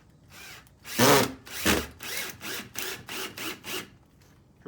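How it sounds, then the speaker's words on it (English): A power drill whirs in a series of short bursts, two long strong pulls followed by several quicker, even pulses as a 2-inch deck screw is driven into wood. "Drill this in here."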